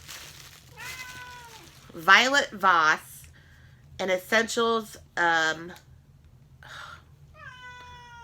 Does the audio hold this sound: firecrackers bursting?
no